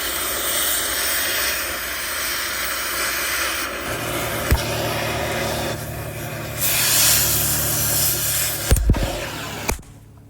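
A gas torch hisses steadily against a rotted Scania truck frame. Its roar shifts in tone partway through, and a few sharp knocks sound near the end.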